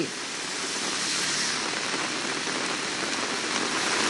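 Heavy monsoon rain pours steadily over the city, a dense, even hiss of drops striking surfaces that holds at constant strength with no talk or other sounds.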